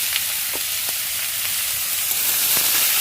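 Banana stem pieces fry with turmeric in hot oil, giving a steady, close sizzling hiss throughout with a few faint stirring clicks and no voices.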